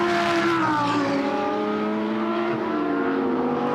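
A Lamborghini Super Trofeo race car passes at the Spa-Francorchamps circuit, its loud high engine note sweeping by and dropping in pitch as it pulls away, alone without talk.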